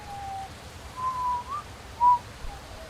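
Whistling in a horror driving game, a few thin wavering tones that come and go over a low rumble, with one brief louder note near the end.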